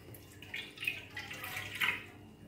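Warm water, about 200 ml, pours into a mixing bowl in a home kitchen while making soft pretzel dough, with soft splashing and trickling for a couple of seconds, fairly quiet with no talk.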